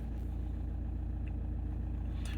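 A car engine with a suspected faulty glow plug idles with a steady low, rhythmic chug, close and continuous throughout.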